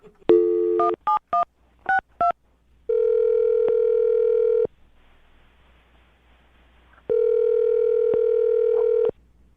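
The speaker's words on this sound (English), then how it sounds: "I'm going to dial her phone number right now" Telephone keypad tones beep in a quick series, then two long electronic ringing tones sound with a quiet gap between them, loud and close.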